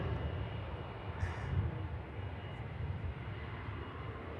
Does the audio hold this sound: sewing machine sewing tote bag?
no